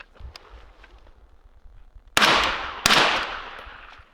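Two suppressed rifle shots fired through a Surefire suppressor, loud sharp cracks less than a second apart with a rushing decay after each, following a quiet stretch of faint shuffling.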